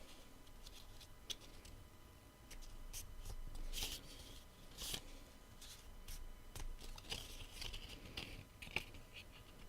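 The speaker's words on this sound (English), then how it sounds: "So just folding on each one along the score line." Scored cardstock strips being folded along their score lines by hand, giving soft, close papery creases and light rustles at an irregular pace, fairly quiet throughout.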